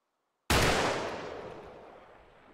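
A single loud rifle shot in a video game, a sharp sudden crack after near silence followed by a long decaying echo that fades over two seconds.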